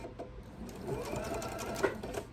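A sewing machine stitching a tree skirt seam, a close, steady rapid mechanical whir with a fast needle rhythm running throughout, ending with a small clunk near the finish.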